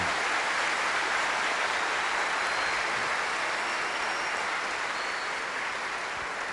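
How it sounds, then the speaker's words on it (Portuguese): An audience applauds at a Catholic talk, a steady, even wash of clapping that sounds distant and fairly quiet, with no pauses. "Olha aplaudir essa palavra"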